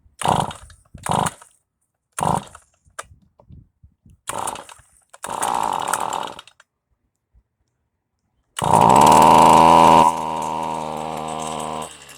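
Small engine on lawn equipment with a suspected bad carburetor, pull-started: several short rattling cord-pull bursts, then it catches and runs loudly and steadily for a few seconds before easing to a lower idle.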